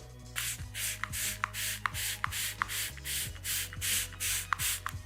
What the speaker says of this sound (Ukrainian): починаємо очистку самого пластику